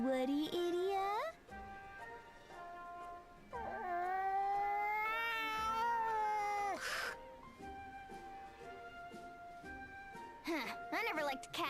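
A cat meows in the Bravely Second video game, several drawn-out tonal mews with a howling quality, separated by pauses, loud and close with no music underneath.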